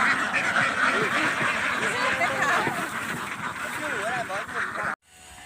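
Many laying ducks quack in a noisy, overlapping chorus nearby while a person speaks over them, ending in a sudden cut to quiet.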